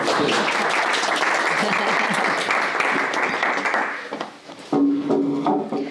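Sustained crowd applause fills the first four seconds, dense and steady, then fades as scattered voices and chatter take over.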